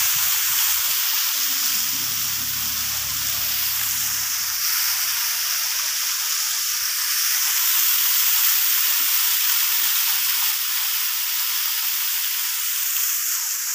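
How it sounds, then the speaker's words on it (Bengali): Water pours down from above into a channel at a waterfall spot in Arunachal, a steady, loud broadband rush that holds throughout with no talk. "এখান থেকে জলটা উপর থেকে আসছে, উপর থেকে পড়তে পড়তে নালা রকম আছে একটা"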